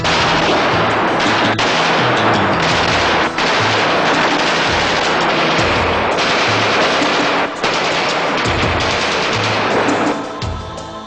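Automatic weapons fire during military training: loud, sustained bursts of rapid gunfire with overlapping reports, dense and nearly continuous with brief sharp gaps, no voices heard.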